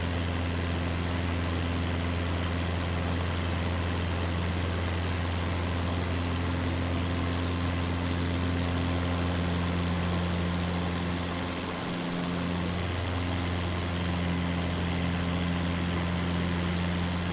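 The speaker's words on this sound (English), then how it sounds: "Apparently this plane doesn't like full throttle." A plane engine runs at full throttle in Microsoft Flight Simulator 2024, a steady, loud droning hum with strong low tones that holds for the whole stretch, with only a brief dip partway through.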